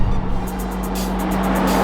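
Renault Megane RS Ultime hot hatch engine pulling hard under acceleration, a loud steady roar with a strong low drone and faint tire noise, close and continuous with no talk.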